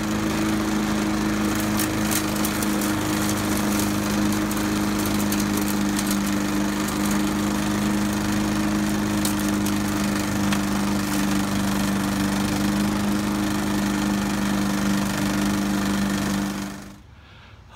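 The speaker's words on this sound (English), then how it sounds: "let's finish mowing" Lawn mower cutting grass in a yard, a loud, steady engine drone running close by for the whole stretch before cutting off abruptly at the end.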